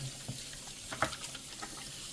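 Kitchen tap water runs into a sink while dishes and a sponge are rinsed, a steady close stream broken by a few splashes and clinks, with no talking.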